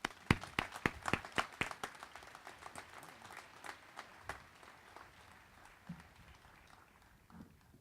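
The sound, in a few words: audience applause welcoming commencement speaker Judge Stephen Trott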